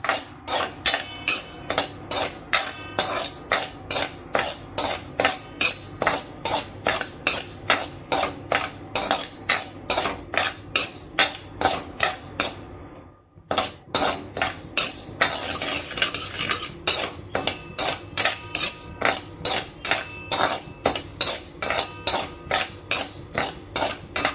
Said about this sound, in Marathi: भाजल्याचा आवाज यायला लागला की मग हे ह्या प्रकारे काढून घ्यायचं.